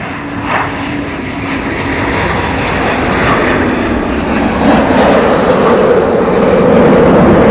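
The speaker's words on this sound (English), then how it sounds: "Got another 2 F-15s inbound." F-15 fighter jets fly inbound at RAF Lakenheath, a loud, broad engine roar that swells steadily as they approach, with a faint whining tone sliding through the rumble.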